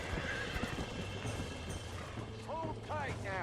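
A horse in the video game Red Dead Redemption whinnies and neighs in sharp repeated bursts over clip-clopping hooves and game noise, the loud neighs clustering near the end as the animal struggles.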